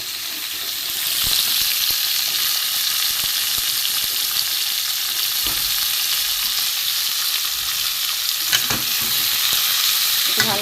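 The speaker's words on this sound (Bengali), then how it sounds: "এখানে বটবটি দিয়ে দেবো। ভালো করে ভেজে দেবো সবজিগুলো।" Mixed vegetables and vadi frying in a little oil for a vegetarian khichuri, sizzling steadily and close with occasional stirring scrapes in the pan, no voices.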